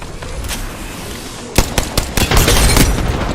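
Gunfire in the Apex Legends video game: a low background rumble, then from midway a burst of loud, rapid automatic shots and impacts close up, without speech.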